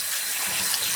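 Water gushes steadily from a tap into a big bowl to wash kale, a brief, close, continuous pouring rush.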